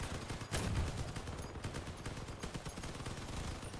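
Sustained rapid machine gun fire in the vehicle combat game Crossout, a dense steady rattle with one heavier burst early on, heard fairly faint with no talking.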